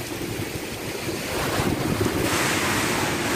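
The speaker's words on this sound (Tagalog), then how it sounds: "Napakalakas talaga ng hangin." Strong typhoon wind roars steadily and grows louder partway through during landfall in Quinapondan, Eastern Samar, a dense rushing blast with no voices.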